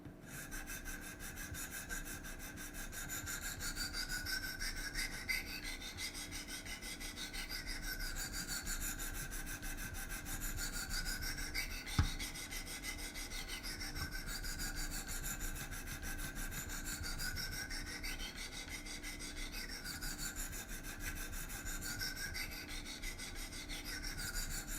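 Faint, continuous scraping of Wicked Edge sharpener stones worked back and forth along a Great Eastern Cutlery traditional knife, quiet and steady over a constant background hiss.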